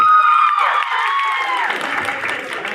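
Audience at a college annual function in Sukinda, Jajpur, applauding loudly after a voice over the speakers; the clapping swells and continues with some cheering.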